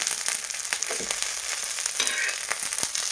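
Green chillies roasting in a pan over a gas flame for a spicy Maharashtrian thecha, giving a continuous close sizzle and crackle with small pops, with no talking.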